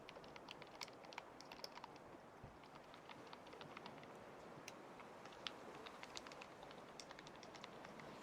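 Soft, steady keyboard typing in an ASMR setting, quick light key clicks pattering continuously and close over a low hiss, no talking.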